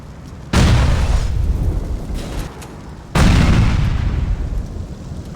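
Two loud, booming vehicle explosions in GTA IV, a few seconds apart, each a sudden blast followed by a long rumbling decay.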